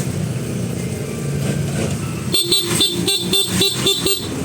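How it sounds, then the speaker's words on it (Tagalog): A Honda ADV160 motorcycle's stock horn honks loudly in a rapid burst of several short toots after a couple of seconds of road rumble, each beep sharp and close. "Ayan yung sample ng stock horn natin."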